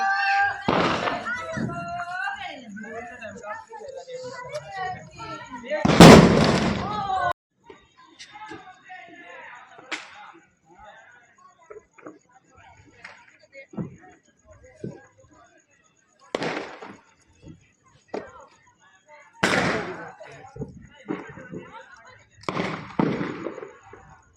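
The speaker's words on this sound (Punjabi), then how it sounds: "ਉਸ ਤੋਂ ਬਾਅਦ ਚਲਾਉਂਦੇ ਆ ਪਟਾਕੇ" Firecrackers set off from a rooftop on Diwali night, several sharp loud bangs spaced irregularly across the stretch, some near and some farther off, with people talking between the blasts.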